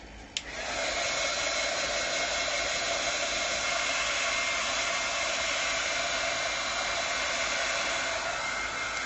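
A hair dryer blowing on a journal page to dry the ink runs as a loud, steady whoosh from a click at the start, continuous and close with no talk over it.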